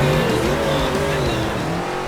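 Monster truck engine in the 2005 game MX vs ATV Unleashed, a loud, continuous, throaty roar with shifting revs and a hint of tire noise, close and steady without pause.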